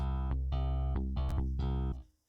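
A clean, dry bass riff plays a short pattern of several punchy notes with brief pauses, then stops abruptly into silence.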